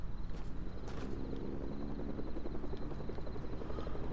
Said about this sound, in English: Yep, there's a chopper.